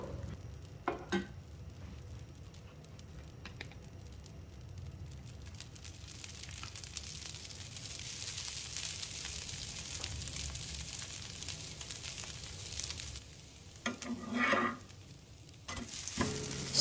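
Black urad dal dosa roasts thin on a pan with sesame oil, giving a steady soft sizzle throughout, with a few brief scraping touches near the end.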